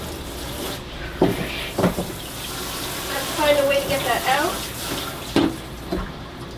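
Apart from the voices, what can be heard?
rinsing lamp shade under running water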